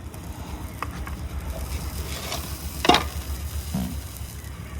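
Ginger, garlic and cumin paste going into a pan for frying, a low, soft sizzle with occasional scrapes and a sharper clatter midway, fairly quiet and close.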